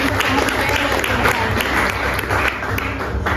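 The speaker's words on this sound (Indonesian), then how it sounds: "Tepuk tangan dulu dong." A loud burst of audience applause rings out at a book talk on Buku Perayaan Mati Rasa, a dense clapping crowd that stays strong and steady throughout the short stretch, with a little background chatter.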